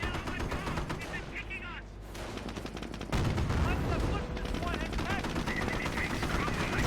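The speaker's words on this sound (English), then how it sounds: "Up north, we do have the Panstrike firing away." Panzerwerfer rocket artillery firing in Company of Heroes, a dense barrage of rapid bursts and booms layered with battle noise and gunfire, with a sharp jump in loudness partway through and no talking.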